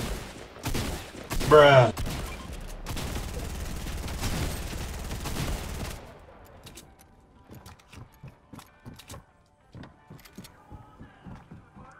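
Gunfire aimed at the player in Fortnite, dense bursts of rapid shots for several seconds, then scattered single shots further off, with a brief voice reacting over it.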